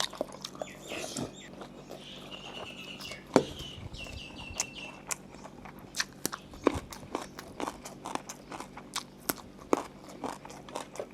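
Someone eats a Mon-style curry of fresh shrimp, with close, irregular crunching and chewing bites scattered throughout, fairly quiet, with faint bird chirps in the background and no talk.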